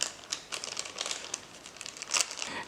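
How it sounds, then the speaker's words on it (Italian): A utility knife slits a plastic mushroom grow bag, making crinkly, scratchy rustles in short irregular bursts close up, with one sharper crackle near the end and no voices. "con un taglierino, praticare dei tagli, in questa maniera."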